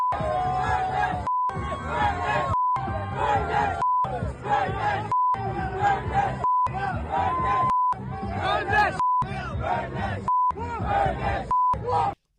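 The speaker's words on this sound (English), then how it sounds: "That was the sound as the crowd chanted to burn that bleep as they lit an American flag on fire" A protest crowd of Pro-Hamas demonstrators chants in unison at Union Station while an American flag burns, rhythmic shouted phrases repeating loudly, each burst broken by a recurring censor beep tone.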